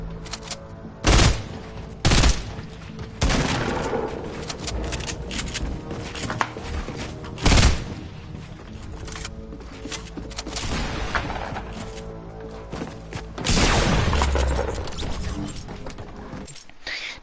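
Gunfire from a video game, with several sharp, loud bursts spread out between clusters of rapid shots and a few longer volleys, close and punchy over steady game noise and almost no talking.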